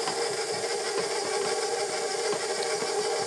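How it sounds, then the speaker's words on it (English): A stand mixer runs on low speed beating a stiff buttercream, giving a steady, continuous whir with a faint scraping texture. It sounds close and even, with no talk. "So I'm going to start on low and gradually increase or bring up my bowl."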